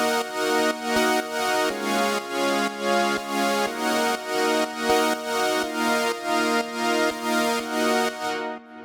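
Silver Dawn synth preset from Analog Lab played on the OPXA, a rich sustained pad of stacked harmonic chords that pulse in a steady rhythm, loud and alone with soft percussive ticks underneath.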